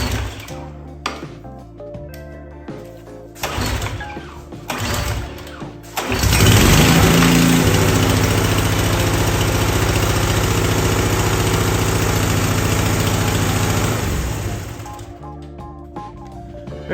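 A power washer's small gas engine is pulled several times, catches around the sixth second, then runs at a loud steady roar for about eight seconds before cutting off, close up with no talk.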